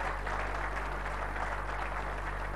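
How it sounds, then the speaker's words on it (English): Steady, rather faint audience applause for four general managers at a hospitality association convention in Goa, a dense wash of clapping over a low hum. "I feel you should give them a huge round of applause to the 4 general managers"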